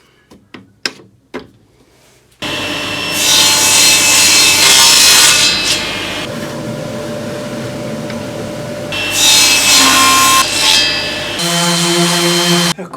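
A saw cuts through thin plywood in a workshop, preceded by a few sharp knocks, then a long, loud, continuous rasping cut that pauses briefly and resumes, close to the microphone.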